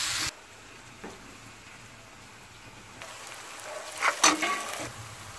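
Onions frying in a pan as chopped green chilies go in, a soft hiss that swells into a louder crackling sizzle with a few clattering spoon strokes toward the end.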